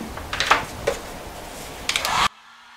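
A heat gun blows over wet acrylic pour paint for about two seconds, a soft steady hiss of airflow with a few light taps, and then it cuts off.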